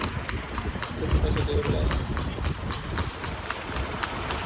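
A mare's hooves clip-clop in a quick, regular rhythm along a village road, close and steady, while someone talks over them.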